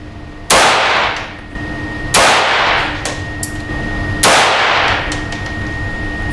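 Three loud, well-spaced shots ring out from a 9mm pistol fitted with a conversion kit at an outdoor shooting match, each sharp crack trailing off into a long echoing decay.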